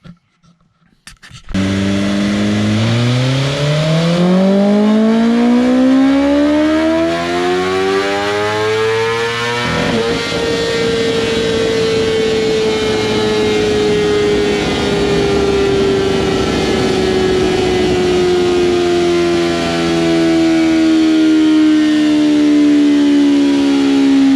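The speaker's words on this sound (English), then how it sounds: "First, we'll do this baseline dyno run." A stock 2020 BMW S1000RR superbike revs on a dyno during a baseline run, starting up and then climbing in a long, loud, rising howl through the gears before a sustained high-rpm scream.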